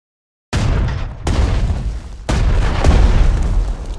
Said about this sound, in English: The best way to start the storming of enemy positions is by preliminary bombardment. Select the artillery unit and attack the enemy.